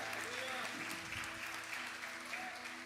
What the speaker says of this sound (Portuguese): joga a mão lá para cima, dá uma salva de palmas a Ele.